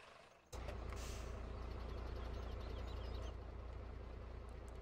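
Truck engine in a driving video game starts abruptly and settles into a steady, loud low rumble that drones on unchanged, with a faint high hiss above it.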